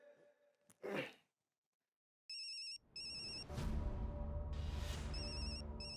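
A telephone rings in two short electronic bursts after a brief gasp-like breath, then rings twice more as loud rustling and movement noise rises underneath.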